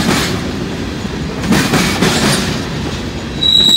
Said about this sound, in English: Long train to the locomotive.